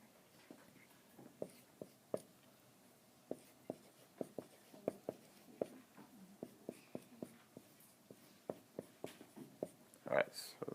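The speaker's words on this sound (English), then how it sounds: "So just give me a minute to write this on the board." Marker or chalk writing on a classroom board, a run of quiet, irregular taps and short strokes, fairly close, with faint room noise behind.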